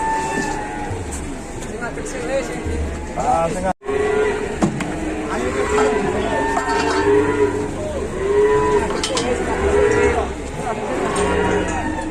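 Cattle moo loudly and repeatedly, close by, on an overloaded livestock truck, while voices talk over the steady drone of an engine.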